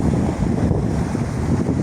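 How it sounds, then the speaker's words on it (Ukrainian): Steady wind buffeting the microphone, a continuous low rumbling roar throughout with no voices. "сьогодні більш волого і прохолодне вітряно"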